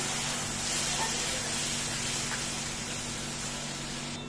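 Water poured into a pan of hot fried masala, a steady loud sizzling hiss that holds for several seconds and cuts off sharply at the end.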